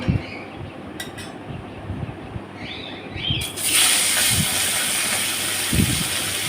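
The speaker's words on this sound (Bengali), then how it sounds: "এবার কড়াইতে তেল দিয়ে লবণ হলুদ মাখানো মাছগুলো ভেজে নেব।" A large snakehead fish, salted and coated in turmeric, fries in oil in a kadai. A low rumble gives way to a loud, steady sizzling hiss that holds to the end.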